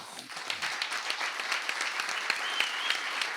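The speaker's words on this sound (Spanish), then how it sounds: "Vamos a seguir aplaudiendo" Steady applause from a crowd, dense clapping sustained throughout at an even, fairly loud level.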